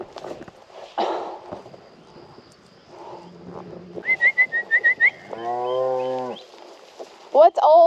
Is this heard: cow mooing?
yes